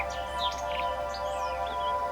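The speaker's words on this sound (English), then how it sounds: "it's alive with birds, absolutely alive with them." Birds sing on Beacon Hill, a Hampshire hilltop. Several high, thin chirps and warbling phrases come in quick succession over a soft, constant background hiss.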